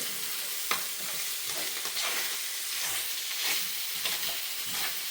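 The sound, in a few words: stirring fried rice with hoisin sauce in pan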